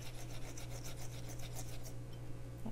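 Fresh ginger is rubbed across a grater in quick, rhythmic rasping strokes, close and clear, with no talking.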